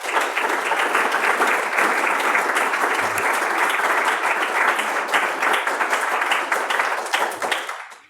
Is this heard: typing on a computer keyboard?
no